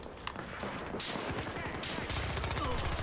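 Video game gunfire from MP7 Bounty Hunter gameplay, with scattered shots and short bursts mixed into busy game noise.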